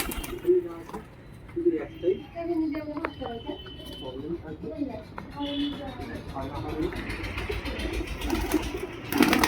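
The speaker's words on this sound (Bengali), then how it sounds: "পায়রাগুলো সব একসাথে ছেড়ে পায়রাগুলো দেখানো হবে" Old-bloodline high-flying pigeons coo in soft repeated throaty bursts as they are let out of their loft, heard close by with people talking over them.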